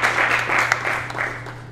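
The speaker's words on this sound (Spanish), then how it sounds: "Un aplauso para vos." Audience applause for a history lecturer at an evening talk in Colombia, a steady dense wash of clapping that holds at even loudness throughout, with no speech over it.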